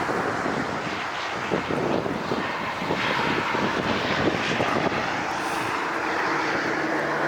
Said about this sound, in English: Blue and white plane.